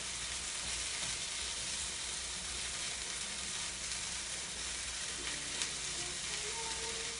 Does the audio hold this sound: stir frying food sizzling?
yes